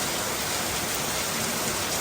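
Rain falls steadily in Vientiane, a dense, even hiss with no breaks over a couple of seconds.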